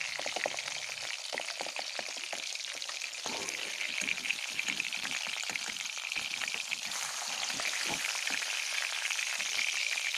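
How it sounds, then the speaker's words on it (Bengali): Marinated pabda fish fry in mustard oil with a dense, continuous bubbling sizzle full of rapid small pops, steady and fairly soft throughout. "তারপর মাছগুলোকে ভালোভাবে ভেজে তুলে নিতে হবে।"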